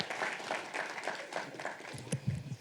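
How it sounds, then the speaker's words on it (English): Banquet audience at an alumni weekend claps briefly, a moderate patter of applause fading toward the end, with a few louder handling thumps near the close. "Can we get one more round of applause for Natalie and Monica?"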